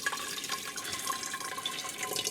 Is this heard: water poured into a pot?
yes